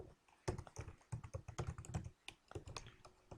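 Fingers type on a computer keyboard, entering a username and password, in quick irregular bursts of close, crisp key taps separated by brief pauses, with no voices.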